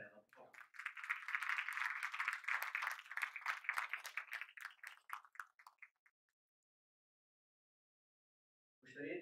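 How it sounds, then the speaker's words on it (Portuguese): Audience applauding at a musical stage show, dense sustained clapping from a crowd that swells and then thins out into scattered claps before stopping, with a voice starting up at the end. "Uma salva de palmas para ela, por favor."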